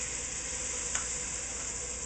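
Clam juice poured into a hot pot for Boston clam chowder, giving a steady, bright sizzle that holds evenly throughout, with one brief splash-like burst partway through and no talking.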